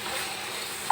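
Tomato and onion frying together with salted fish in a pan, giving a steady, close, even sizzle with a small clink near the end.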